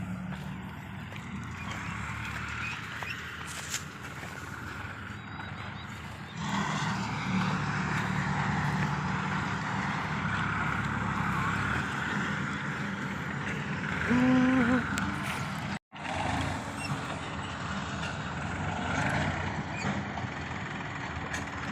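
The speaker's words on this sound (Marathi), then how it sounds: "इकडे एक ट्रॅक्टर झाडं उपसतो आहे खालून" A tractor engine drones and rumbles continuously at moderate distance while uprooting pomegranate trees, rising in strength partway through, with a brief break near the end.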